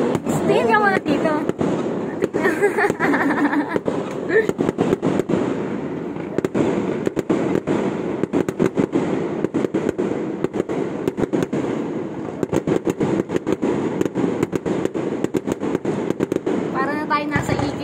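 Fireworks at an SM mall on Christmas night crackle and boom in rapid irregular bursts for the whole stretch, loud and continuous, with voices chatting close by underneath.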